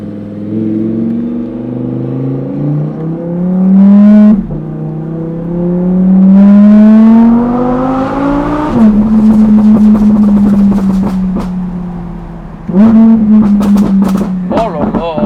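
An Audi R8 engine revs hard and close, rising in pitch through repeated climbs with sharp drops between them, then settles into a rough, loud idle before one more burst. Voices can be heard in the background.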